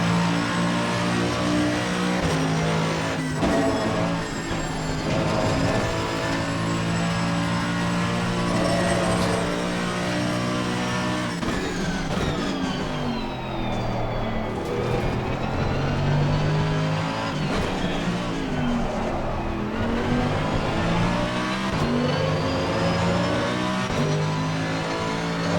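Race car engines in Assetto Corsa Competizione, with an Aston Martin and a McLaren on track at Silverstone, roar loudly and continuously, rising and falling through gear changes and revs with a brief downshift dip midway.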